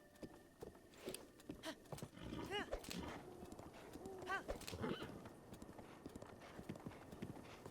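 A horse clip-clops along in Breath of the Wild, with steady hoofbeats and two short whinnies, while a person talks over the game sounds.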